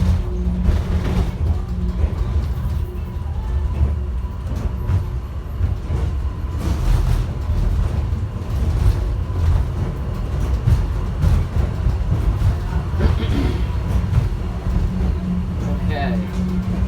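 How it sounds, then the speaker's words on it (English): An airport underground subway train heading to Terminal C rumbles continuously for about seventeen seconds, heard from on board, with a low steady roar and rattling under occasional talk. "There's the other train."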